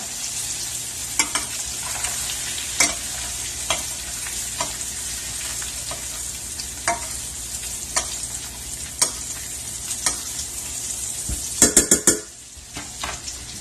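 Ahi tuna sears in a pan of butter and oil, a steady close sizzle broken by scattered clinks and basting scrapes, with a cluster of sharp utensil knocks near the end before the frying drops quieter.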